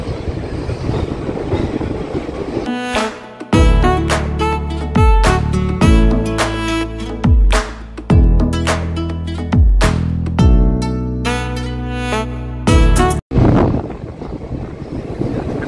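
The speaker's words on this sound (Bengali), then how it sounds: "ডট 7টায় কিন্তু শিলিগুড়ি জংশন থেকে ট্রেন ছেড়ে দিল।" The 15467 BXT Intercity Express departs Siliguri Junction: loud rhythmic clickety-clack of wheels over rail joints, repeating steadily and close, with wind rush throughout and a brief sharp dropout near the end.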